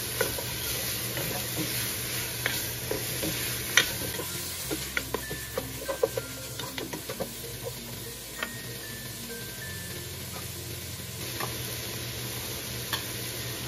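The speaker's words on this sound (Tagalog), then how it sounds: "Tapos meron tayong black ground pepper. Haluin muna natin." Leftover turkey with fish sauce and black pepper stirred in a hot pan, giving a steady sizzle with frequent light scraping taps of a utensil throughout, close up and with no talking.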